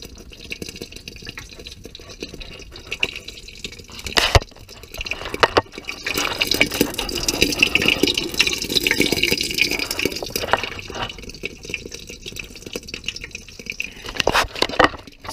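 Water leaking steadily from a homemade stove feeder and water heater, a continuous splashing, trickling flow that swells louder through the middle and eases toward the end, heard close with no talking.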